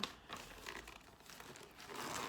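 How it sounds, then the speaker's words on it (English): Plastic packaging crinkles steadily and fairly faintly at close range during a cross-stitching session with DMC floss, the crackle rising slightly toward the end. "sorry for the crinkling"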